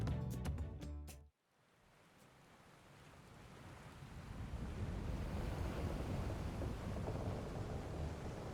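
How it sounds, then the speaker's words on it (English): Stormy wind and rain build in Final Fantasy XIV aboard a ship's deck, a rising roar of wind and surf-like noise after a short burst of music cuts off. "We're in for a proper storm, it seems."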